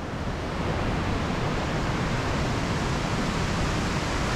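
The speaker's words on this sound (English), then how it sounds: "Check out this fall though, from one of the side creeks coming down." A small waterfall from a side tributary creek pours down near Carrington Falls, a steady, dense rush of falling water that stays loud and constant throughout.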